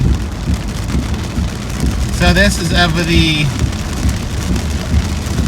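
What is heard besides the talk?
rain falling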